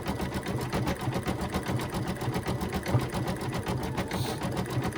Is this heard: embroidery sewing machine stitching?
yes